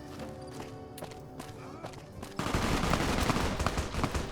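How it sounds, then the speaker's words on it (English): Gunfire breaks out during a Legion attack in the Fallout New Vegas video game: scattered shots over game ambience, then a sudden denser barrage of firing that continues steadily near the listener. "Who's shooting? Oh! It's the Legion!"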